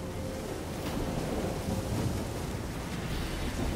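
Stormy weather in the video game Witcher 3, a steady dense wash of rain and rumbling thunder that holds evenly throughout with no talking over it.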